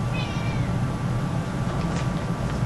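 Shadow, a pet cat, meows once near the start, a clear wavering cry over a steady low background hum, with no talking.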